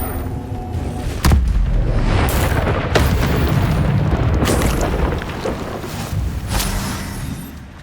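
An Incendio fire spell is cast in Hogwarts Legacy, producing loud whooshing, roaring bursts of flame with a few sharp impacts and a sustained fiery rumble that fades near the end.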